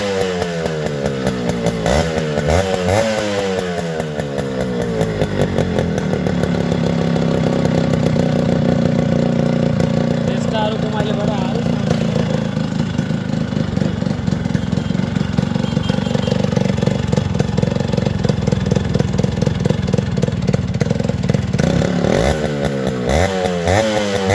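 A two-stroke Yamaha RX 100 motorcycle engine idles close by with a steady, buzzy rattle, blipped into short revs at the start and again at the end, with no talk.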